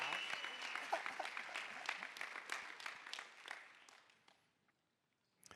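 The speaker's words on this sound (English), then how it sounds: "big round of applause" An arena audience at a finals event breaks into loud, sustained applause that rolls on for several seconds, then fades away to near silence.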